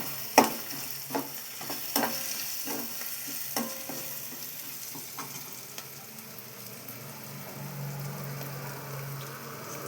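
Sambar ingredients are stirred and slowly fried in a pan. A run of sharp spoon scrapes and taps comes first, then eases into a soft, steady sizzle close by.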